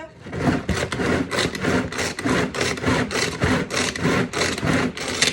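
A Tupperware Extra Chef manual chopper cuts broccoli in a rapid series of rhythmic whirring pulls, about a dozen close, even strokes back to back.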